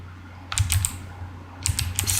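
A computer keyboard typed on in two short bursts of quick, crisp key clicks, close and fairly loud, separated by a brief pause over a low background hum.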